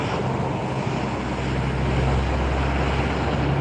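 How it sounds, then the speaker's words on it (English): An airplane taking off from a runway produces a steady, heavy engine roar with a low droning hum, sustained and fairly loud without break and heard from a distance outdoors. "Yep, it's getting on the runway, so it's gonna take off."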